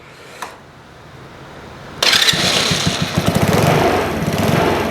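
A motorcycle engine fires up after a clutch bearing repair, starting abruptly partway through and settling into a loud, steady, buzzy idle with faint rhythmic ticking. Quiet background comes before the start.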